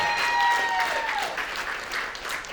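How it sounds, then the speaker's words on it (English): Audience applause at a Las Vegas stand-up comedy special, a full round of clapping that swells and then gradually thins out. "How about a round of applause for all of our firefighters, our policemen out there?"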